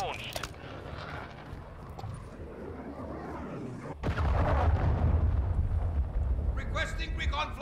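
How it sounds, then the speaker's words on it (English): Explosions from a hostile cruise missile strike in Call of Duty Modern Warfare open beta rumble heavily with deep, sustained blasts after a sudden hit, a radio-style voice speaking over the din. "Hostile cruise missile launched."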